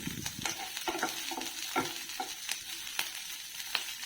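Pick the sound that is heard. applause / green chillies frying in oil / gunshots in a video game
green chillies frying in oil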